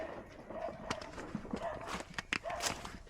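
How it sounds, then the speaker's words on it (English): Cow walking on a slick barn floor, hooves clopping in a few uneven steps at moderate distance, with some rustling around them and no talk. "Here comes that other cow."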